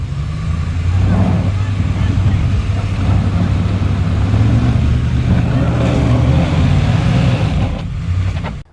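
A RAM 1500 pickup truck in four-wheel drive auto during an off-road test in snow, its engine roaring loud and steady with wheels spinning, a continuous heavy rumble that cuts off abruptly at the end.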